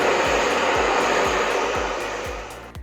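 A hair dryer roars steadily at close range while blow-drying hair, a loud continuous airy whoosh with faint rhythmic thumps as it is moved, easing slightly toward the end.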